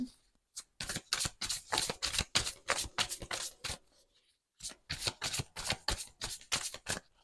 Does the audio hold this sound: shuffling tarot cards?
yes